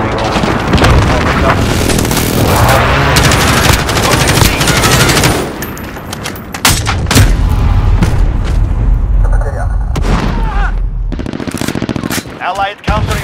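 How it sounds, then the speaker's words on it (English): In Call of Duty Modern Warfare on the St Petrograd map, an enemy precision airstrike sets off heavy booming explosions amid sustained machine-gun fire, loud and chaotic throughout, with game voice callouts mixed in. "Enemy precision airstrike, get down."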